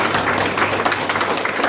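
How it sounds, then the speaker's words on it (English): An audience claps together at a Srimad Bhagavat Saptaaham religious discourse, making a brief, dense, steady patter of applause. "So clap for him."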